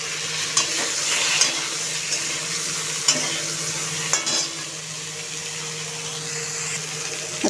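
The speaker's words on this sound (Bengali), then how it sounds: "আর পেঁয়াজটাও একসাথেই দিয়ে দিচ্ছি, একসাথেই ভাজা হয়ে যাবে" Vegetables and onion fry in oil with panch phoron and green chillies, a steady close sizzle broken by occasional stirring scrapes.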